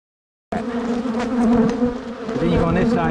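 Honey bees buzz at an open hive in a dense, close, continuous drone with individual bees whining past. The sound cuts in suddenly after a brief silence and stays loud throughout.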